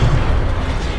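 A fire spell cast in Hogwarts Legacy on PS5 bursts out as a loud, sustained low rumbling whoosh that holds steady for about a second, with no talk over it.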